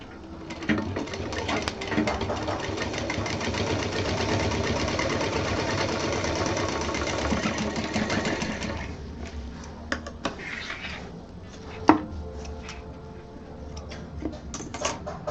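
A sewing machine stitches piping onto a fabric cosmetic box, running in one continuous, close, rapid whir for several seconds before stopping, followed by quieter handling clicks and taps of the fabric.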